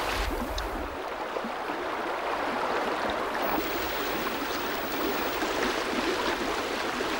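Small gin-clear Vantsá river in Mýrdalur, Iceland, flowing with a steady, close, full rush of water that continues without a break and without voices.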